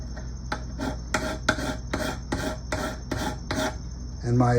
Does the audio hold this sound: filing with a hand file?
yes